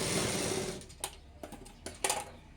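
A sewing machine stitching a blouse runs in a fast, steady whir for under a second, then falls quiet except for a few sharp clicks and brief bursts as the fabric is shifted.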